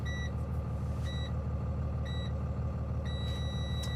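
Freightliner M2 106 truck running its light test: a steady engine idle drones underneath while short, bright electronic beeps sound in a regular countdown roughly once per second, ending in a longer sustained tone.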